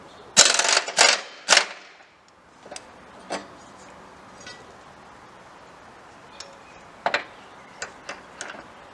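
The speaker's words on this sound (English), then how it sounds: "first thing we do is we just take the blades off" Mower blades being removed, with rusty nuts loosened by hand tool: a few sharp metallic clicks and ratcheting bursts up close, followed by scattered lighter ticks and taps.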